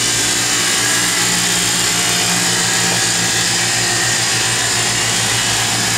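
An Edwards IQDT 80 dry vacuum pump backs the turbo pump on a plasma etch chamber, giving a loud, constant mechanical drone with a whirring hum that stays the same throughout.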